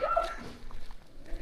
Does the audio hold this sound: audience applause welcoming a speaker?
no